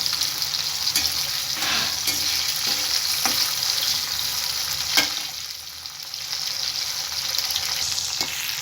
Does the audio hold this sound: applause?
no